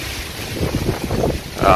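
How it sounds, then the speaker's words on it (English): Strong wind buffets the microphone outdoors among ruined concrete foundations in Hanton City, a loud, rumbling, gusty roar that swells and fades continuously across the whole stretch. "Very windy here, so I apologize if it ends up sounding pretty choppy."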